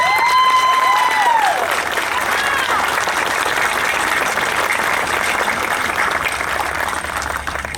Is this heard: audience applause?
yes